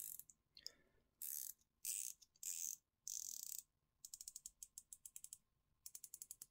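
A coin-edge watch bezel on a diver-style watch turns, giving short scraping bursts and then quick runs of crisp ratcheting clicks. The sound is close, quiet and alone, with no talk.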